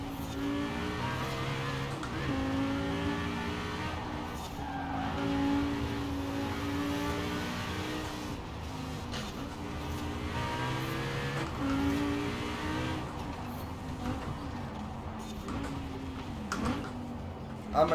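A Lamborghini Huracan Performante engine in the video game Forza Horizon 4 revs up and down through repeated gear changes, loud and close, with rising and falling pitch sweeps over the full length.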